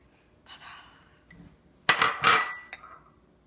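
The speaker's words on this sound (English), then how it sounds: "Just gonna mix it with a fork." A fork mixing flour, salt and baking soda in a bowl, a few light clinks and scrapes followed by a louder cluster of metallic scraping strokes, close and brief in an otherwise quiet room.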